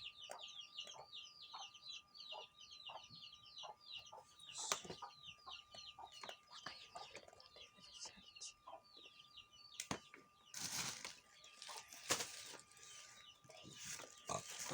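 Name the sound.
chicks cheeping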